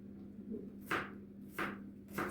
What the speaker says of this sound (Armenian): այսպես մանր կտրատում ենք